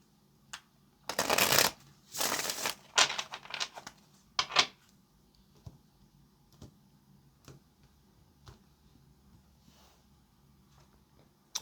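Several quick bursts of a tarot card deck being shuffled, crisp and close, followed by a few scattered soft taps and flicks in near silence.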